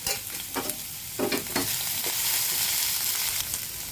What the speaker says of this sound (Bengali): এর মধ্যে দেবো টমেটো কুচি আর লঙ্কা কুচি, দিয়ে আবারও একটু নাড়াচাড়া করে নেবো